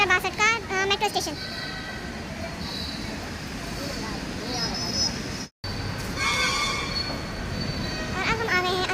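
A Delhi metro train moves through a metro station with a rumbling roll and high, squealing wheel noise, while voices chatter over it.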